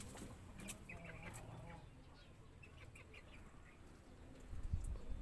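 Roosters in a cock section of a pigeon loft, with faint clucking and crowing at a distance over quiet background noise and a louder thump near the end.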